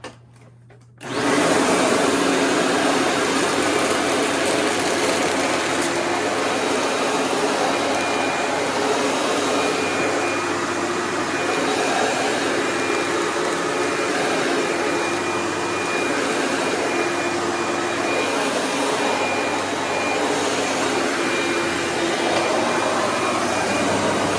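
A Eureka Bravo vacuum cleaner with its bearing freshly greased with lithium grease switches on after a moment of quiet and runs with a loud, steady roar and whine for a long stretch.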